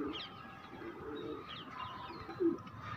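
Madrasi pigeons at a pigeon market give soft, low coos, faint and intermittent, with one slightly louder coo near the end and no talking.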